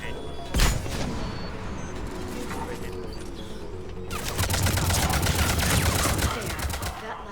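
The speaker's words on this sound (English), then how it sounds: "That's a grenade." Combat in the video game Mass Effect 3: a sharp grenade blast early on, then heavy, rapid gunfire that swells into a dense, continuous burst of shots toward the end.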